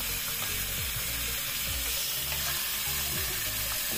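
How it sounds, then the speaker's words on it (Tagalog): Fish head frying in a pan for soup, a dense, loud, continuous sizzle and crackle of hot oil with faint scraping underneath. "so fry po natin until brown color"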